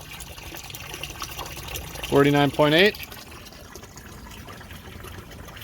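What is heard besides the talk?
water from the house filling cold plunge tub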